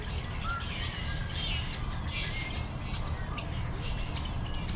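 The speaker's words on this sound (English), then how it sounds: "It's quite a lovely soundscape of all these singing, chirping birds." Many birds sing and chirp together on a family farm, a steady chorus of overlapping tweets and calls filling the scene at moderate distance, continuous over a soft background hum.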